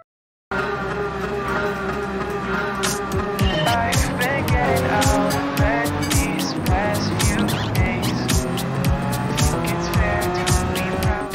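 An engine-swapped Volkswagen Samba bus driven in Gran Turismo 7, engine revving up and down through gear changes with tire squeal, loud and close throughout after a brief silent start.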